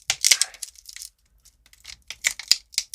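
CR2032 battery blister packaging being torn open by hand, with crackly plastic rips and crinkles in uneven bursts close up, split by a near-silent gap.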